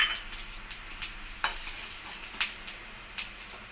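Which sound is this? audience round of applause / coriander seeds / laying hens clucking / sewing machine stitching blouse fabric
coriander seeds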